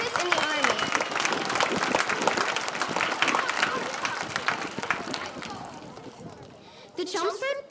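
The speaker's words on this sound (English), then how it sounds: "give him a round of applause for his service in the Army" Sustained applause from a large crowd at a Memorial Day ceremony, dense clapping with some cheering mixed in, tapering slightly before a brief louder burst at the end.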